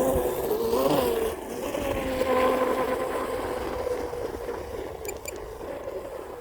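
Electric Blackjack 42 RC speed boat making a pass, a sustained whining motor hum that holds strong, rises slightly in pitch and then eases off steadily, with no talk over it.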